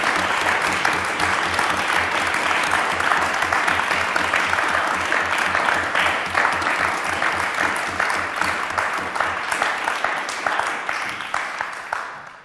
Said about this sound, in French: On va tous les applaudir, bien sûr.